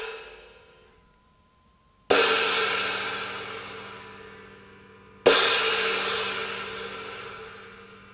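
Stacked broken cymbals are struck twice, several seconds apart. Each hit is a loud, trashy, washy crash that decays slowly, with a faint ringing tail before the first.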